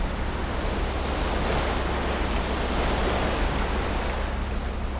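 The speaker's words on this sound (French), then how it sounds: "la prochaine vague arrive et caresse doucement vos pieds" Ocean waves wash steadily onto a shore, a dense continuous hiss of surf that stays loud and even throughout, with no voices.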